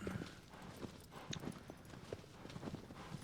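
A horse's hooves clip-clop rhythmically in the Shadow of the Colossus video game, a steady close gait under faint background game sound.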